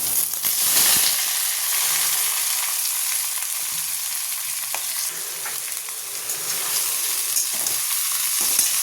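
Potatoes and onions, with more onion than potato, frying in a pan, giving a steady close bright sizzle and hiss that runs throughout with a few soft stirring scrapes.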